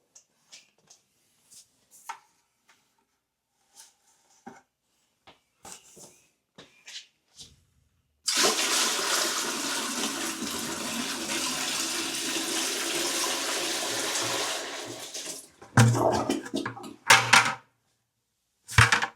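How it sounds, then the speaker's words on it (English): A slow-flushing household toilet, flushed by pouring in a 5-gallon bucket of water, gives a loud steady rush of water lasting several seconds, framed by scattered quiet knocks and handling sounds before and after. "As you see, it flushed."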